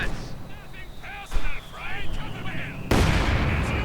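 Mines detonating in the strategy game Company of Heroes 2 during a 2v2 match, a few loud blasts and bursts of gunfire crowded together, with a heavy explosion near the end and a commentator talking over the battle.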